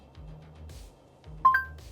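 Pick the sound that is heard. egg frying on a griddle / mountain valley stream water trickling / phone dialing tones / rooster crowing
phone dialing tones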